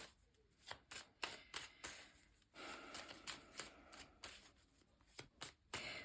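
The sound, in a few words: shuffling tarot cards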